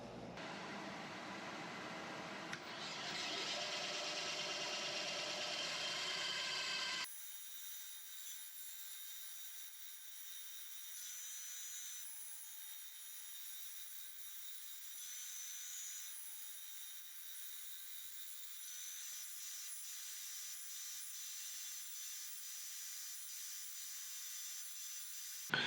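Wood is cut into small slices for ring blanks, a steady, close grinding saw noise for several seconds that then stops abruptly, leaving only a faint hiss.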